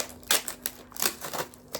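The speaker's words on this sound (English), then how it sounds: "probably can't actually hear me very well over the tape" Packing tape is pulled off a box during an unboxing in several short, sharp ripping bursts at an uneven rhythm, close and fairly loud.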